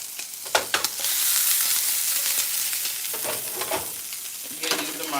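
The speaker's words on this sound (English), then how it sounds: "these are my shrimp. I'm not going to let them cook too much because I don't want to over them" Shrimp fry in a pan for homemade shrimp chow mein, giving a steady close sizzle broken by several clanking stirs and scrapes of the utensil, with no talking.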